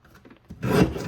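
A paper trimmer blade rasps through a strip of card stock in one short, close stroke, growing louder partway through after a few faint scrapes.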